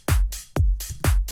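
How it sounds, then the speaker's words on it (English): A programmed drum pattern alternates a deep kick with a bright open hi-hat, each sounding twice in a steady, punchy rhythm, loud and dry with no voices. "So then it's kick, open hi-hat, kick, open hi-hat. Sounds like this."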